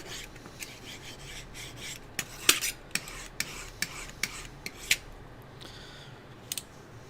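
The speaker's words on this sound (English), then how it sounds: "Let's sharpen that first." A cutting blade is drawn against a sharpening surface in a series of sharp, scraping strokes, roughly a dozen evenly spaced rasps, close and fairly quiet in a still room.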